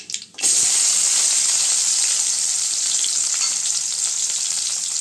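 Onions hit hot oil with cinnamon and cloves for a wheat rava kichadi, bursting into a loud, close, steady sizzle after a brief quiet moment and hissing on without a break.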